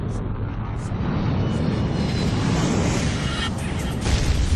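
American Airlines Flight 77 airliner diving toward the Pentagon, rendered as a continuous, loud, dense roar with rumbling low end and a few faint high tones, swelling slightly at the end.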